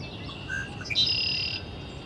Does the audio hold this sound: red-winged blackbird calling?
yes